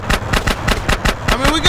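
Rapid automatic gunfire in GTA San Andreas, a loud close burst of evenly paced shots about ten per second throughout, with a vehicle-like whine rising near the end.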